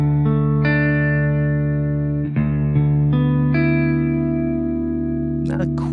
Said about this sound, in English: let's say we would play that riff in Dorian